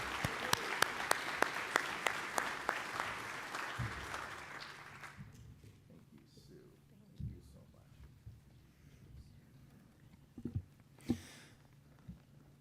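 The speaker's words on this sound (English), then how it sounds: "let's give our ambassadors a round of applause" An audience at a chamber of commerce awards banquet claps for its ambassadors, a dense burst of applause that fades out after about five seconds, followed by quiet room noise and a few scattered sounds.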